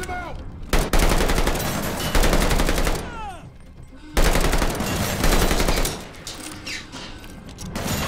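Heavy automatic gunfire inside a submarine in Call of Duty Vanguard, loud sustained bursts with brief pauses, close and harsh with metallic ringing and ricochet whines between volleys.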